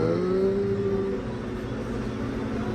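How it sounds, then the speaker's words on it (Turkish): A tractor engine revs up during a field run, climbing from second gear with an automatic satellite steering system engaged; a loud, steady mechanical drone with a rising pitch early on, continuous and close throughout. "Biraz daha hızlandıralım motorunu."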